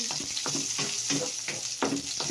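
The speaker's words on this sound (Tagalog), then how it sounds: "iuna natin pagisa yung ating bawang" Garlic sizzles and crackles in a pan with a steady frying hiss, broken by several stirring scrapes at an even pace, close and with no voices.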